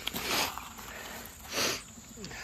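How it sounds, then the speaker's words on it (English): Two soft, wet allergy sniffles close by, spaced about a second apart, in an otherwise quiet setting. "Excuse me for sniffling."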